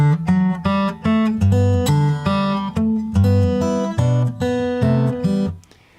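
Piano chords played one after another in a steady rhythm, each cut off cleanly before the next, with a short decay at the end.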